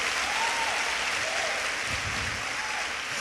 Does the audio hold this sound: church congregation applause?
yes